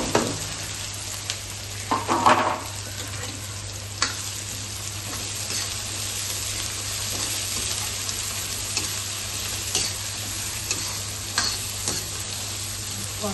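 Steady sizzling of chopped onions frying in a pan with cumin, with occasional scrapes and clinks of stirring, close and continuous without speech.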